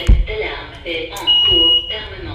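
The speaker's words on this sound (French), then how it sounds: "l'alarme s'est déclenchée" An alarm goes off in a coworking space, giving a steady high electronic tone for under a second midway through, with a person talking over and around it.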